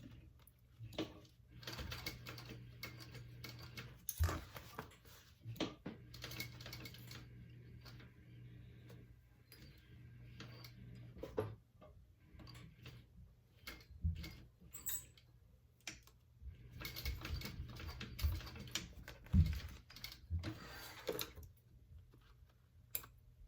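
A sewing machine stitches around the edge of a bag in short bursts of fast ticking separated by pauses, quiet and close, with brief handling clatters between runs.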